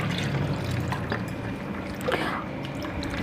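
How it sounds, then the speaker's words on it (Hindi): Water poured into a lemon and salt summer sharbat, a steady close splashing trickle that runs continuously without pause. "इसमें ऐड करेंगे थोड़ा सा पानी"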